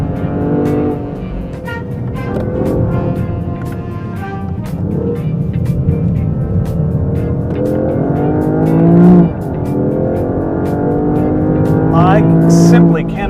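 A Lexus LBX Morizo RR compact hot-hatch SUV is driven hard on a race track, its engine droning and rising through repeated revs and gear shifts with hints of tire squeal, while someone talks over it throughout.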